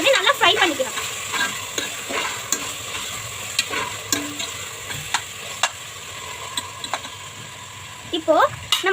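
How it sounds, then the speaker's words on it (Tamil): Ginger garlic paste frying with mint in a pan for chicken biryani, giving a steady close sizzle with repeated stirring and scraping clicks throughout. "இஞ்சி பூண்டு பேஸ்ட் போட்டோடனே நல்லா ஃப்ரை பண்ணிக்கணும்."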